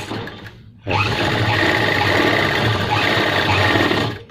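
Sewing machine stitching a wallet pocket on trousers, starting after a brief quiet moment and then running in one steady, loud, close burst with no talk.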